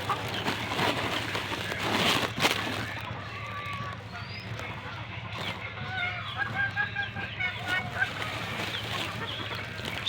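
Battle cross gamefowl roosters cluck and crow repeatedly on a breeding farm, steady calls near and far over a constant background hum, with some talk in places.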